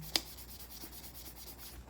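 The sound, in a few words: sanding paint off aluminum can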